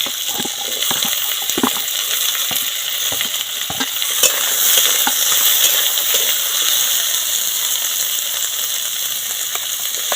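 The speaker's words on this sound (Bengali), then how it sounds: "কিছু তেল দিয়ে দিলাম একে একে বা সমস্ত আনাজগুলো দিয়ে দেবো" Vegetables frying in oil in a pan give a steady, close sizzle throughout, broken by short scraping stirs. No one talks.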